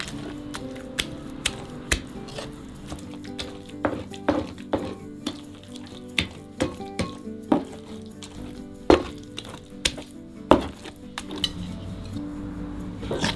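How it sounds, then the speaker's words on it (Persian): Stone pounding eggplant and other ingredients for a vegan Gilaki dish, a steady series of sharp, close knocks and clacks at an uneven rhythm with no voices. "بادمجون رو با مشت سنگ و باقی مواد خوب میکوبه"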